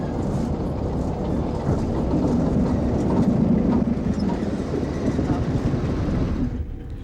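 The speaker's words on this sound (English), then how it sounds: "Altogether, the BR train will spend about an hour shunting before it's ready to set off again." Heavy rumbling of British Rail freight wagons shunting slowly at Amlwch, North Wales, with clanks and knocks over a low steady roar, close and continuous.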